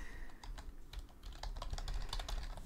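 Text is typed on a computer keyboard, a quick irregular run of close, crisp key clicks with short pauses between bursts, no speech over it.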